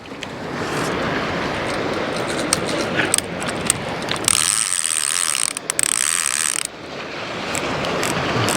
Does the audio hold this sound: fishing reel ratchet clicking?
yes